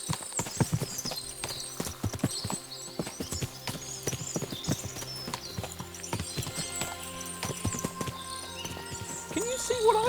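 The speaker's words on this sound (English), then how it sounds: "What a lot of horses!" Many horses trotting in the medieval video game Kingdom Come: Deliverance 2, a steady patter of hooves clip-clopping over background score, with occasional voices speaking over them.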